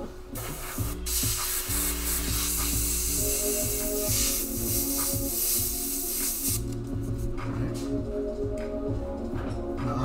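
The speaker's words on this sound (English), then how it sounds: "We're gonna just try to get a nice good spray." An airbrush sprays unreduced yellow paint for an ocean sunset painting, giving a steady, loud, close hiss that runs continuously through the stretch.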